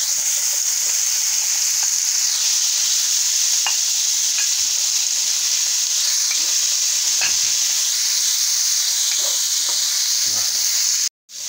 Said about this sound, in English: I am going to add 2 tablespoons of garlic. I'm going to add my beef.